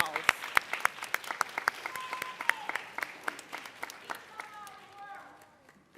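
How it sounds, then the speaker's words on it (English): Graduation audience applauding in a large hall, a dense roll of sharp claps that holds steady for several seconds, then thins out and fades near the end. "Give them a big round of applause."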